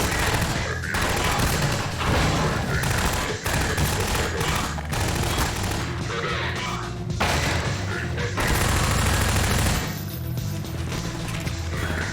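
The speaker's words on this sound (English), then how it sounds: "He's trying to kill the turret with a turret." Turret gunfire in Half-Life 2, heard as dense automatic bursts and clattering impacts rolling on for several seconds. A voice talks faintly underneath in places.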